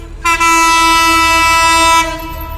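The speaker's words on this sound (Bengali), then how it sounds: "একটা হর্ন পাওয়া গেল সুন্দর হর্ন লোকোমোটিভ ছেষট্টি কত এটা" A loud, sustained locomotive horn, number 6619, sounds at the Uttar Azampur rail gate in Dhaka as the train passes. It holds one steady harmonic blast for nearly two seconds, then cuts off, leaving low rail rumble beneath.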